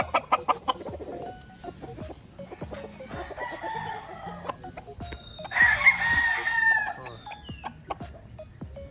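An imported Kelso gamefowl rooster in a breeding area on a Philippine gamefowl farm gives one loud, close crow midway, surrounded by scattered clucks, scratches and other farmyard bird noises.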